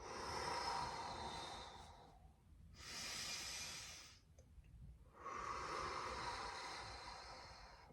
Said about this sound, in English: and especially when you're breathing out